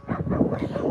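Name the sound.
puppies whimpering and yipping at a dog park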